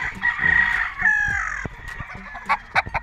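A straight-comb rooster at a gamefowl farm lets out a drawn-out crow, close by, followed by a few short clucks and sharp calls from nearby birds.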